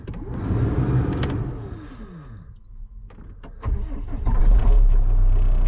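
A vehicle engine, sitting unused for weeks on a battery that may be low, cranks with whirring starter noise, then catches and settles into a loud, steady idle close by.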